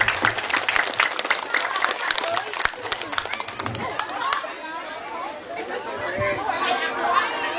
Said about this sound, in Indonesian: Tepuk tangan untuk orang tua kita semua.